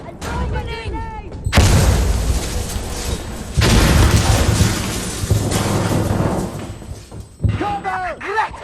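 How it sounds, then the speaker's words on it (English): Grenade blast in the tactical shooter game Insurgency Sandstorm, a loud booming burst followed by heavy rumbling and gunfire-like crackle, with shouted voices before and after. "Frag out! I'm throwing a grenade!"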